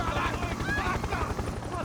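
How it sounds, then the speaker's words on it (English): Helicopter in the Max Payne video game, its steady rhythmic rotor chop running continuously beneath people talking. "They were just in a helicopter."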